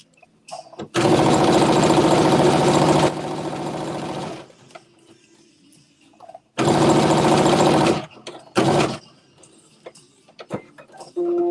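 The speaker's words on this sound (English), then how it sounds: "Now I'm about to stitch it 5/8 of an inch across." A sewing machine stitches a garment yoke in two loud, steady bursts, the first about three seconds long and slowing, the second shorter, separated by quiet handling noises.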